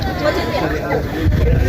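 Hikers on Sikunir hill chatter together, forming a close babble of overlapping voices with footsteps and outdoor ambience beneath.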